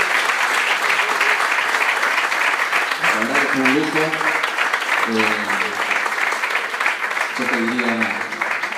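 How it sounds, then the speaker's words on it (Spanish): Audience applause from an event at Colegio Champagnat fills the clip as a sustained wash of clapping, with someone speaking over it in Spanish at intervals. "Les pido un fuerte aplauso para Gabriel,"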